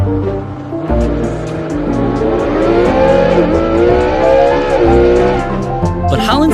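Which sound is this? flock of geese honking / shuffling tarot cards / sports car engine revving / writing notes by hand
sports car engine revving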